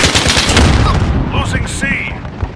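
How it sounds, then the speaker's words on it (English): Grenade blast and gunfire in the shooter game Call of Duty: Modern Warfare, with a dense burst of booms and shots up front, then scattered pops and electronic cues. A voice calls out over the fighting. "Throwing grenade!"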